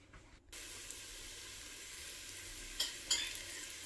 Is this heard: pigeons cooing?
no